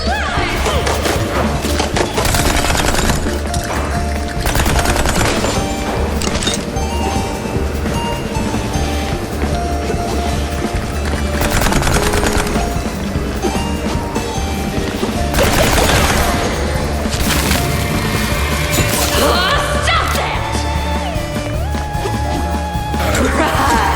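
Gunfire and crashing impacts from the video game Mouse: P.I. for Hire, with dense, continuous bursts of shots layered over loud game music and effects throughout.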